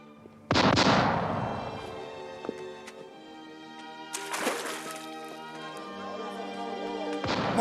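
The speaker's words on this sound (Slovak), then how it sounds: "Prosím, teraz môžeme strieľať. Začneme paľbu." Cannon fire in a 1975 Slovak historical adventure film, three loud booming shots spaced several seconds apart, each with a long ringing decay, over a faint background.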